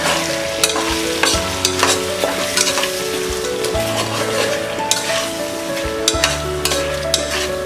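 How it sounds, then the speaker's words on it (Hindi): Field beans with kitchen king and goda masala frying in a pan: a steady close sizzle broken by repeated scraping and knocking strokes of a spoon stirring the mixture, with no talk. "और इसे 5 मिनट तक हम फ्राई करेंगे"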